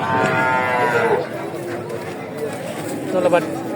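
A cow's moo rings out amid a busy crowd chattering nearby at a cattle market, with a second lowing call toward the end.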